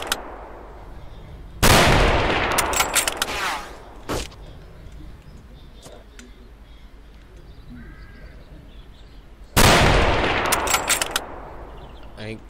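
Gunfire in S.T.A.L.K.E.R. Anomaly, a shooter game: two separate loud bursts of rapid automatic fire, close and harsh, each lasting a couple of seconds, with sparse single cracks and distant bird calls in a quiet outdoor ambience between them.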